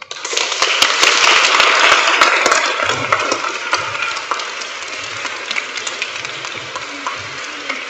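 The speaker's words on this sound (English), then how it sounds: "And another round of applause." Applause from a school audience at a Year 6 leavers service, a dense steady patter of many hands clapping that fades gradually, with faint low murmurs beneath.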